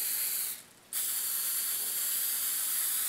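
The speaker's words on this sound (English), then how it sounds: "Now we'll take our hairspray" Hairspray sprays onto a grass mat in a long, steady, close hiss that breaks off briefly near the start, then resumes and continues evenly.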